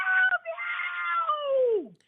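A voice mimics a baby's cry as a cat-like meow, one drawn-out wailing call that rises and then slides down in pitch, close and loud, with nothing else around it.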